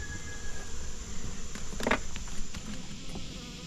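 Honey bees buzz steadily around hives that are being moved from one bee yard to another, a soft continuous hum with a few louder passes close by.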